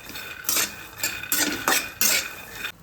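Garlic tossed into peanuts roasting in a pan, with a metal spatula scraping and clattering against the pan in several loud, separate bursts a fraction of a second apart, nearby and without speech.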